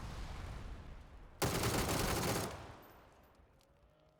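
A rapid burst of automatic gunfire in PUBG lasting about a second, loud and dense, rising over quiet game ambience and cutting off abruptly; no voices over the shots.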